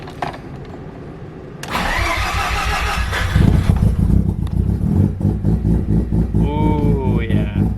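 A Mazda RX7 rotary engine cold starts: a short cranking whirr, then the engine catches with a loud, rough, pulsing idle that holds steady close up.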